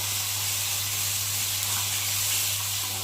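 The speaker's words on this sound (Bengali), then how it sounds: "আর এখানটায় এখনও ভাজা হচ্ছে, দুটো লাস্টে ছিল, সে দুটো এখন ভাজি" Bhola fish frying in hot oil gives a steady, loud sizzling hiss that carries on unbroken throughout, with a low hum beneath it.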